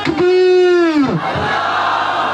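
A religious gathering's crowd roars a loud, drawn-out chanted response to a Takbir call, one massed sustained shout that swells and then falls away into lingering crowd murmur.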